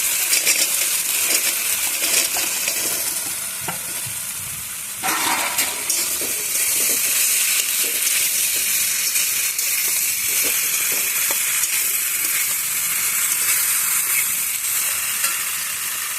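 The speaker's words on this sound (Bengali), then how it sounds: "মশলাটা কষানো হয়ে গেছে, এবার ঝোলগুলো দিয়ে দিই।" Vegetable broth is poured into a pan of spiced masala, stirred with a tomato. A loud frying sizzle rises sharply at about five seconds, followed by steady bubbling, spoon scrapes and clinks.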